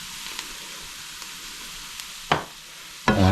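Onions and spices fry in a pan for goat curry with a constant, close, hissing sizzle, broken by a few light taps and two louder clatters of stirring near the end.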